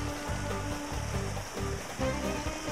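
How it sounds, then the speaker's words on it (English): Water flows and splashes steadily in a fountain or channel at the Alhambra in Granada, a constant, soft, nearby rush with no voices. "it's just so nice and refreshing to hear water wherever you go."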